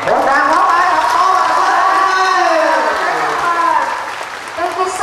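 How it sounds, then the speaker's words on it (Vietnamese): Applause from a crowd at a Catholic pilgrimage centre visit by an archbishop, loud clapping blended with cheering and children's voices, sustained then easing off toward the end. "Một tràng pháo tay thật to."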